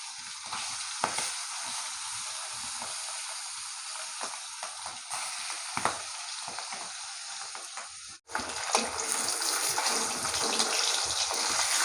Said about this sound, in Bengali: মাছগুলো ভাজা হয়ে গেছে এবার তুলে নেবো